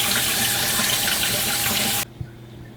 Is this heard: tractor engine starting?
no